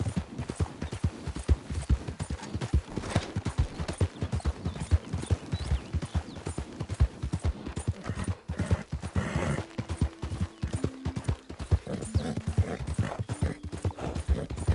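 Horse hooves galloping in the video game Red Dead Redemption 2, a fast, steady clip-clop rhythm running continuously and close, with an occasional whinny and faint background sounds, no talking.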